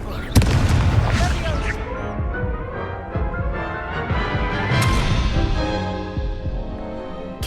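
Incendio fire spell bursts in the Hogwarts Legacy video game, booming blasts layered over game music with a sharp hit near the start and another midway.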